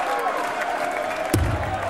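Darts crowd at the 2009 BDO Lakeside Championships quarter-final, a dense roar of cheering after a 180, steady and loud, with a sharp thud near the end.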